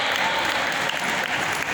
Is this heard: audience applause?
yes